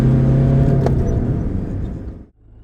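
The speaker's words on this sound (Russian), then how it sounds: "Поднимаем обороты до 3000." A smoking Fiat car engine with a fault, revved to about 3000 rpm under load, gives a steady loud roaring hum close by before dropping off abruptly near the end.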